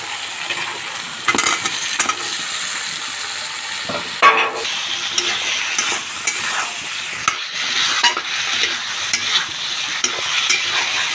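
Potatoes being stirred into a fried spice paste for Bangladeshi egg curry: steady frying sizzle with repeated scraping and clinking strokes of a spoon in the pan, close and fairly loud, no voices.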